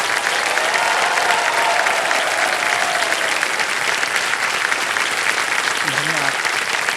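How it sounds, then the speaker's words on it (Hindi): A studio audience on the Kaun Banega Crorepati game show applauds loudly and steadily throughout, a dense wash of clapping, with a faint voice surfacing near the end. "इतनी जोर से ताली बजी है"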